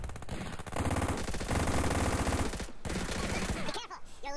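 Gunfire in the PUBG video game, with rapid automatic bursts repeating in close, loud strings, briefly broken by a short gap and a voice near the end.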